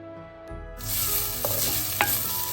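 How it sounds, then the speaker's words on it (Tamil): Onions with crushed ginger frying and stirred in a pan for mutton curry, a quiet lead-in that gives way to a loud, steady sizzle, with a couple of sharp spoon clinks near the end. "இந்த வெங்காயம் வதங்கி கொண்டு வர ஒரு கரண்டி இஞ்சி இடித்தது சேர்க்கிறேன்."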